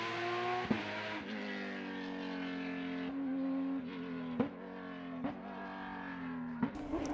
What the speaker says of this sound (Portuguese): Isto são carros que não é preciso comentar muito, é preciso ouvi-los apenas.